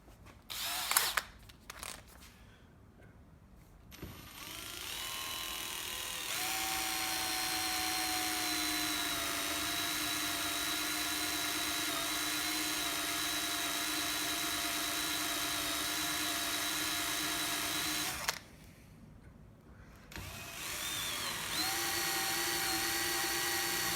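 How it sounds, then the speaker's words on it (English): A power drill bores a very small hole into a Valente hammer during a repair, whining in long, steady high-pitched runs with short pauses, spin-ups and winding down between them. "And let's make a very small hole here."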